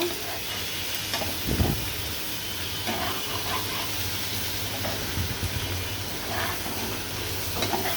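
Shrimp dusted with turmeric fry in hot oil with a steady close sizzle, while a utensil stirs them now and then and adds soft scraping knocks through the continuous hiss.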